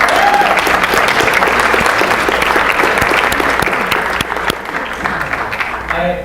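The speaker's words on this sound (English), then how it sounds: "Can we give our members a round of applause?" Enthusiastic audience applause at a botanic garden lecture, dense clapping from a sizable crowd that holds steady and then tapers off near the end.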